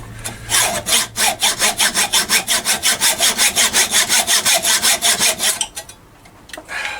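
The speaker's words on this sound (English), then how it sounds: "Actually hear that saw blade." A hand saw cuts through wood in fast, regular rasping strokes, loud and close, about two dozen in a row before it stops.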